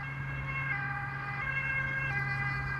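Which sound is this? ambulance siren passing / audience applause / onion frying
ambulance siren passing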